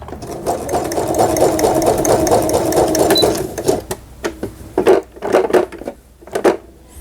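A Brother Star230 sewing machine runs zigzag and three-step stitches. It whirs steadily and loudly for a few seconds, then breaks into short, rattling stop-start bursts.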